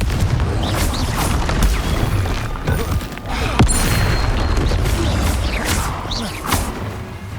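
Confringo blasting spell explosions in Hogwarts Legacy, a dense, loud barrage of booming blasts and rumbling impacts that fills the whole stretch without a break, with a shouted spell name briefly in the mix.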